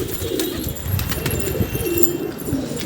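Pigeons coo in soft, repeated low calls from a building where several birds perch, a steady murmur of overlapping cooing close by with faint background noise.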